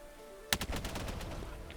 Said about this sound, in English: I am so lucky we're using lasers for this.